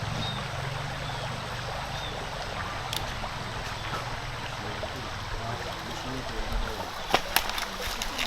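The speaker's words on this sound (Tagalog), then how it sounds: "magandang ilog dito sa liblib ng aming lugar" Steady rushing of a flowing river in a remote area of Puerto Princesa, Palawan, continuous and fairly loud, with occasional splashes and faint voices near the end.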